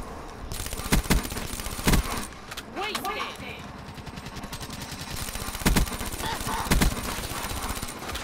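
Rapid automatic gunfire cracks in bursts during a Black Ops 3 gunfight, with sharp loud shots standing out and sustained firing throughout, while a player talks over the action.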